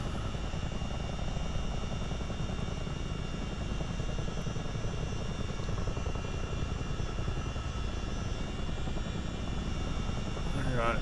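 A CH-47 Chinook twin-rotor helicopter taking off in a flight simulator game, its heavy rotor and engine roar loud and steady for the whole stretch.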